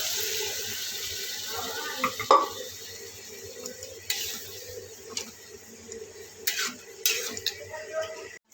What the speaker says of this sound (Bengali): এবার এর মধ্যে তড়কাটা আমি ঢেলে দিলাম।